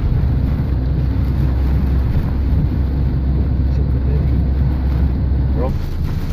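Strong cyclone wind buffets a car at deserted Airlie Beach during Tropical Cyclone Debbie, a loud, constant low roar and rumble of gusts against the vehicle and microphone, with a brief faint voice near the end.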